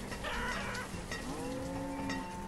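Chickens cluck from a farm in the Welcome Nomads video game, steady over a constant bed of in-game music and ambience, with no speech.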